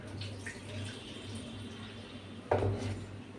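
Food being washed in water in a home kitchen: faint, quiet trickling and sloshing, with one brief louder splash near the end.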